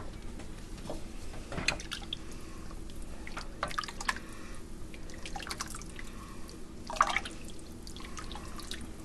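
Stock and orange juice are poured into a pot for rice pilaf, producing intermittent liquid splashes and dripping trickles, close and moderately loud with a few stronger pours.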